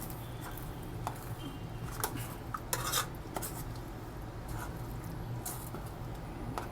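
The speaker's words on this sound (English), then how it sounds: "let's get it stirred up and see how this is gonna go" A metal spoon stirs a chicken dish in a pot, giving quiet, irregular clinks and scrapes against the pot over a low steady background hum.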